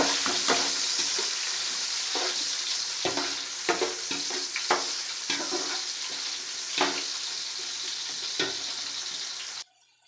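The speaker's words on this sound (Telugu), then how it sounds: "కొంచెం నెయ్యి నూనె వేడెక్కిన తర్వాత ఎర్రగడ్డలు వేసుకొని" Chopped onions frying in hot ghee and oil in a pan for chicken biryani: a steady, loud sizzle with a rhythmic scrape of stirring throughout, cutting off abruptly near the end.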